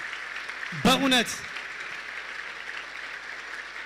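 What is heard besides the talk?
applause at a funeral farewell service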